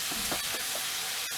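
Chicken being fried and stirred with spices in a pan, a steady close sizzle with scraping stir strokes, no voices.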